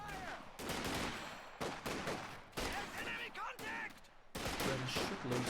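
Gunfire crackles in a WWII strategy video game battle, with loud bursts of rifle and machine-gun fire and sudden shifts in the clatter, all close and dense.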